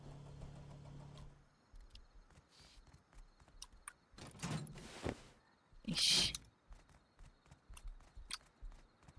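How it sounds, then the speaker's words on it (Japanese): Hoofbeats of a horse named Kumagoro in the survival game Rust, heard as scattered clopping steps mixed with louder whooshing bursts and a sharp rattling clatter, fairly quiet with gaps between sounds. "熊五郎の足音が怖いって。"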